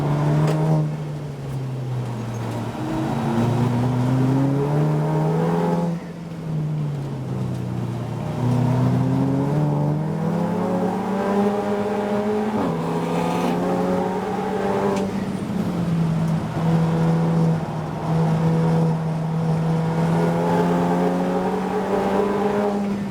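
Race cars circulate during a club enduro at the Anglesey coastal circuit, their engines rising and falling in pitch as they pass and shift gears, a continuous loud whine with overlapping cars heard at mid distance.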